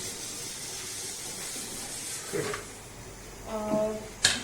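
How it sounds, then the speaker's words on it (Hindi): A pressure cooker lets out a short whistle with a hiss of escaping steam while cooking Sindhi breakfast, after a quieter stretch of low background noise. "कुकर को हमारी लग गई है 4-5 सीटियां"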